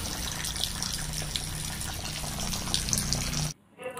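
Water pours steadily out of a balloon in a continuous, close rushing gush that ends abruptly near the end, with no talking.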